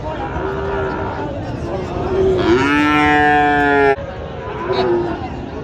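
A cow lets out a long, loud, close moo amid the busy din of a crowded cattle market at Raniganj haat in Dinajpur, with people talking throughout and fainter lowing around.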